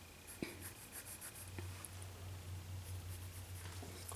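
Faint, close scratching of a pencil drawing a line on paper during a portrait sketch, a few soft strokes against a quiet room hum.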